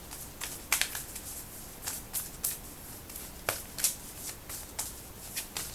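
Tarot cards shuffled by hand, a rapid series of crisp riffling bursts and soft slaps repeating irregularly, close and fairly quiet with no talking.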